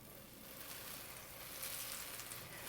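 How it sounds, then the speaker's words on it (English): Polenta frying in butter in a non-stick skillet, a steady soft sizzle throughout, faint and close, with no voices. "When frying the polenta, it is best to fry it in a non-stick skillet so it really doesn't stick."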